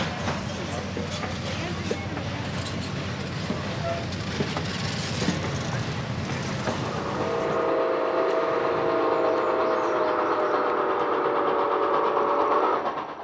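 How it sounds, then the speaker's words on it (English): Steam locomotive 765 passing on a photo run-by: heavy rumbling, clanking and chuffing of the train going by, then a long, loud, steady whistle blast holding for several seconds before cutting off. "as the 765 puts on a performance only a steam locomotive could provide"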